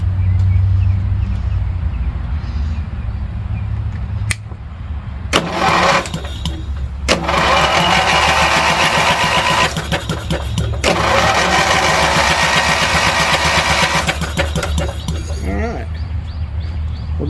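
A Briggs 20 hp riding mower engine on a jumper pack cranking over without firing, loud churning bursts of several seconds with pauses between, over steady background noise.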